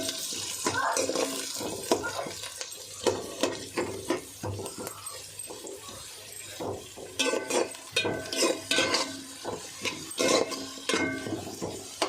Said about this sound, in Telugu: నూనె కాగింది ఉల్లిపాయలు వేసుకున్నాను